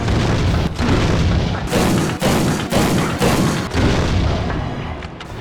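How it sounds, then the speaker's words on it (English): Repeated heavy explosive grenade rounds hit the Tyrant in Resident Evil Outbreak File 2, several deep booming blasts in a loud continuous barrage with short gaps, tapering at the end. "It took a total of 8 explosive rounds to defeat the Tyrant"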